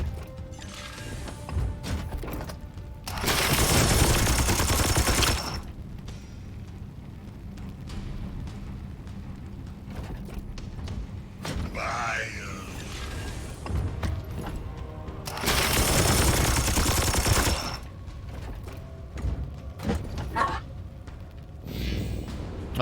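Gunfire in the turn-based Warhammer 40K game Chaos Gate: Daemonhunters, heard as two loud, dense bursts of crackling shots several seconds apart over a steady game backdrop with mechanical clanks.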